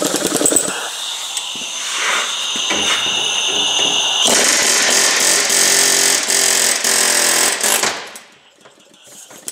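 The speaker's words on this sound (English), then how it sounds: "We're going to put it in the vise so we can hammer this thing out of here." Hammering a lower ball joint out of a Honda Odyssey suspension part clamped in a vise: rapid, loud metallic striking in bursts, with a sustained dense stretch of blows before stopping abruptly.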